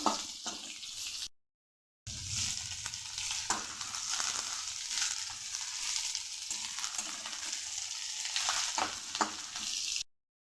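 Onions lightly frying in a pan give a steady, fairly loud sizzle with a few clinks of stirring. A brief gap of silence breaks it near the start.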